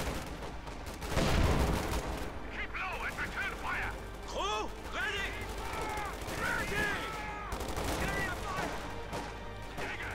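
Rifle gunfire in the video game Company of Heroes 2 crackles in bursts amid battle noise and explosions, with a commentator talking over the action throughout.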